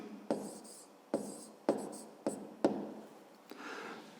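Pen or chalk strokes jot down the answer to a fifth-grade math equation, about six short scratchy taps and scrawls in an uneven rhythm, close and fairly quiet, with a voice speaking over them.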